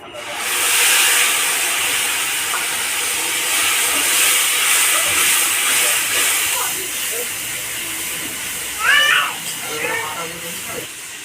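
Pureed whole tomato hits hot oil tempered with nigella seeds, bursting into a loud close hiss that settles into a long steady sizzle, with a voice briefly talking near the end.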